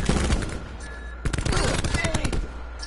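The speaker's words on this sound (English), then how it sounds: "I'm shooting you already." Rapid automatic gunfire from the video game Call of Duty: Black Ops 4, bursts of sharp shots firing in quick rhythm, a brief pause then a denser volley, fairly close and loud.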